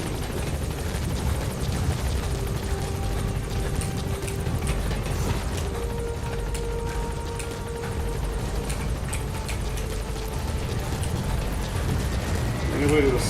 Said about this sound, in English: Any way to escape the sound of the choppers?